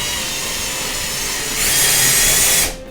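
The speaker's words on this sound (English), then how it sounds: "screwdriver or your drill bit, make a little more of a hole to get the plug into the drywall" Power drill boring a hole into drywall for a wall plug, a loud steady whirring grind that intensifies partway through and then cuts off abruptly.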